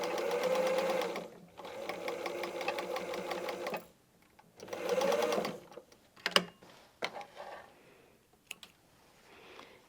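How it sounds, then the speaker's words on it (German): A sewing machine stitches a patchwork seam in two close bursts of rapid whirring, separated by a pause, followed by scattered clicks and handling noises as the stitching stops. "Und nähen die Naht zu Ende."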